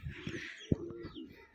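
Rajshahi Giribaz pigeon at a loft calling in a short, soft coo with a brief sharp peak mid-phrase, faint and close, with no voices.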